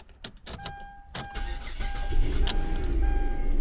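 A car being repaired cranks over with a few sharp starter clicks and stutters, then the engine catches and settles into a steady rumbling idle, close to the microphone.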